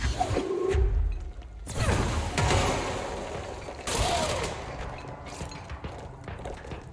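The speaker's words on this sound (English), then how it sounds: "A rocket launcher." Rocket launcher in the game Control fires twice with loud whooshing blasts, mixed with mechanical clanks and rumbling debris at a moderate distance, with no talk over it.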